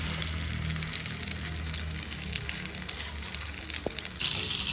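Chicken pieces sizzle and fry in melted butter in a pan, a steady close crackling hiss with a single brief clink near the end, and nobody speaks.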